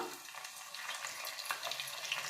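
Sprouted fenugreek seeds sizzle in hot oil, a soft, steady frying hiss with faint crackles, close and fairly quiet throughout.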